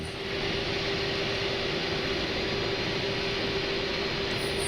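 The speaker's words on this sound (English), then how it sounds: "Let's drop our gear here. Landing gear down, ladies and gentlemen." Steady, loud rumbling drone inside an Inibuilds A330 airliner in MSFS 2024 as the landing gear extends, a continuous roar with a faint tone running through it, no talking.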